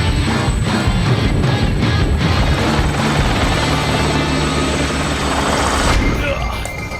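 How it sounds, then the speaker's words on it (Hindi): A helicopter flies fast over the mountains of Transylvania. Its rotor and engine roar loudly and close with a thumping pulse, easing off near the end. "मैं एक हेलीकॉप्टर के नीचे लटक रहा था जो करीब 150 किलोमीटर की रफ्तार से ट्रांसिल्वेनिया के पीहड़ों के ऊपर से गुजर रहा था।"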